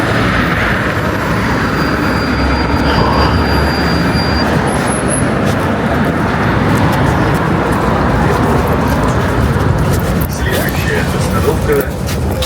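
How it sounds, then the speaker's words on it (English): A route 17 tram in a Russian city rumbles along loudly with a heavy, continuous low roar of motor and wheels, close by, as people talk under the noise. "It's called a tram."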